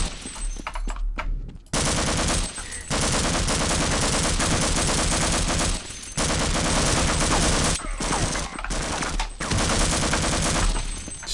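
Gunfire in the video game Half-Life: Blue Shift comes as loud, sustained automatic bursts with brief gaps between volleys, close and dominant throughout.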